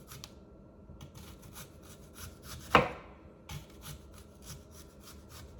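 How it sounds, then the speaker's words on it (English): A knife slices food thinly on a cutting board while ackee and saltfish are prepared, a run of quiet, rhythmic close strokes with one sharper louder cut partway through and no talk. "So I'm gonna cut these really, well, trying to do them thin."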